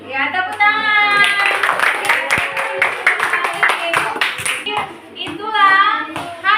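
Children in a Grade 4 classroom clap after a presentation on plant parts, a burst of sharp hand claps over lively kids' voices and chatter, with speech before and after the clapping.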